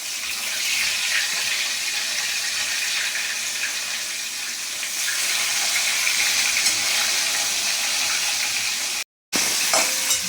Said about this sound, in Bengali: চিংড়ি মাছগুলো ভালো করে লাল লাল করে ভাজা হয়ে গেছে